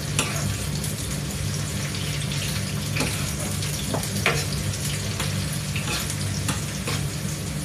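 Ginger frying in a pan gives a steady, close sizzle with an even hiss throughout, dotted with small pops and stirring clicks, over a low hum, no talk.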